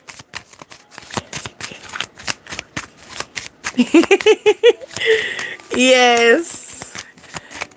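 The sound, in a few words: handling and shuffling a deck of playing cards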